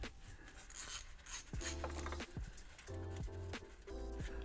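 A 5mm Allen key turns a bolt on a 2015 Audi A3 2.0T rear differential, giving faint repeated metallic ratcheting clicks in short bursts, quiet and close with no talking.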